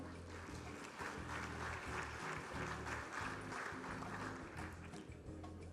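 A packed hall of about 450 people at a 2019 trophy ceremony applauds in a sustained, even wash of clapping that stays fairly quiet and distant throughout.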